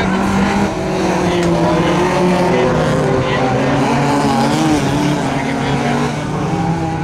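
Rallycross cars, among them a small Opel Kadett, race hard with loud continuous engine roar, revving and tire noise under a commentator's voice, the dense racket holding steady throughout.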